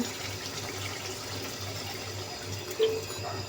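Water is poured into a pan of meat and papaya curry, making a steady, soft, close wash with a brief splash near the end and no talking.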